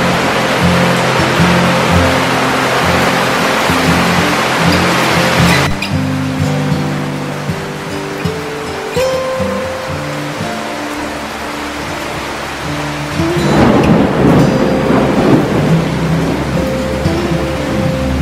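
Heavy rain pours steadily as a loud, dense wash that holds through the whole stretch and swells stronger near the end, with no voices.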